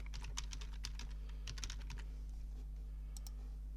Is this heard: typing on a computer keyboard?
yes